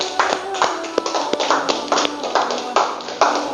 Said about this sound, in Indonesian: kasih aplaus dulu kelompok 1